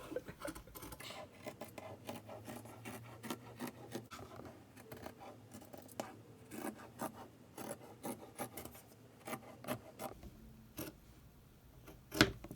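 Scissors cutting out fabric pieces for a homemade Christmas stocking, a close, steady run of dry rasping snips and rubbing strokes with no talking.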